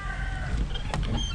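A chicken clucks once or twice close by, a short quiet call over low background noise.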